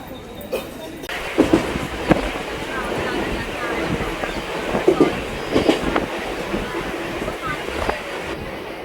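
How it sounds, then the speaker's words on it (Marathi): A train arriving at a station platform rumbles and clatters along rails, with rhythmic clicks and metallic squeals over a steady roar; people speak faintly in the background. "आम्ही तर वाट बघतोय ट्रेन येते का"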